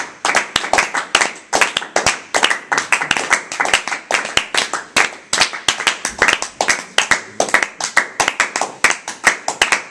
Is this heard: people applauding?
yes